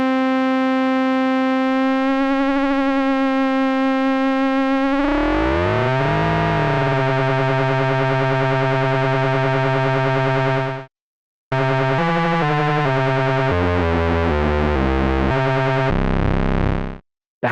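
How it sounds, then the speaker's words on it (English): A distorted FM synthesis tone built in Reaktor Blocks holds a buzzing note that sweeps and warbles in pitch, breaks up gnarly, cuts out briefly, then returns with stepping notes, loud and alone. "It's definitely breaking up and sounds really, really gnarly, but it still sounds in tune"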